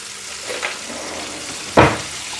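Chicken meatballs sizzle steadily as they fry and brown in a pan over medium heat. A couple of sharper pops or stirring scrapes stand out from the hiss, and no one speaks.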